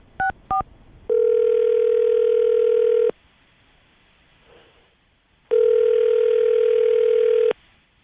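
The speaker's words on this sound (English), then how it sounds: "I'm going to give her a call right now, see if we can get her on the phone" Outgoing phone call on a morning radio show, with two short dial tones followed by two long ringback tones separated by a quiet pause, clear and steady with no talk.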